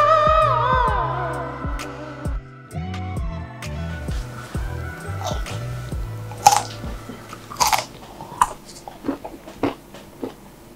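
Crunchy asparagus spears being chewed close to the microphone, a series of uneven crisp bites and crunches with pauses between, some fairly loud snaps.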